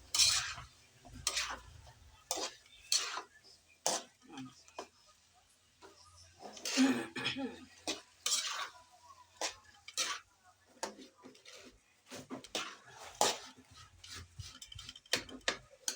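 Spoon stirring a sardine and chayote dish in a cooking pan, producing a series of soft, irregular clinks and scrapes of utensil against metal, fairly faint and close, with pauses between strokes.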